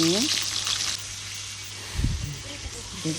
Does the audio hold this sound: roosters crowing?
no